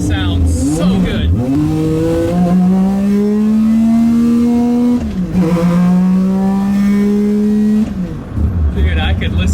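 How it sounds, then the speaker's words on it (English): Three-rotor 20B rotary engine in a Mazda RX7 cruising, its loud buzzing drone rising and falling with gear changes, heard from inside the car, with voices now and then. "This thing just cruising already sounds so good."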